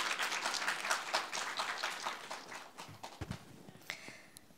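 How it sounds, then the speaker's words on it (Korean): An audience at a university forum applauds a student counseling center director as she comes up to present, a fairly faint patter of clapping that thins out, followed by a few scattered knocks and shuffles. "박수"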